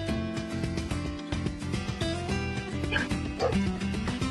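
Game dogs in The Dog Island barking and yipping, short bright yelps and whimpers over steady background music, moderately loud and close.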